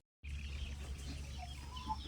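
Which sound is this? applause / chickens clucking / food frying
chickens clucking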